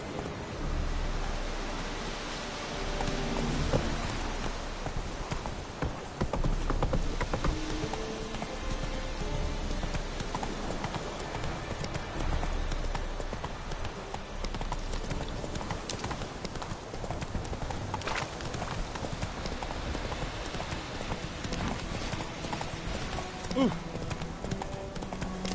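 Roach the horse gallops in The Witcher 3 video game, a steady rapid clip-clop of hooves running throughout over a continuous game soundscape with occasional voices.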